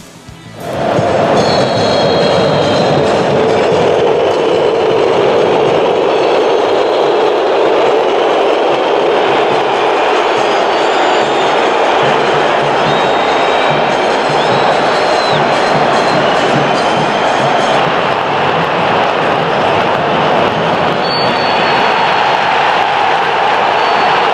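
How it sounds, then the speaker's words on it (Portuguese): A large football stadium crowd fills the air with a loud, sustained roar of massed voices, steady and dense from start to finish, like booing at the end of a match. "E aí no final do primeiro tempo e no final do jogo, vaias."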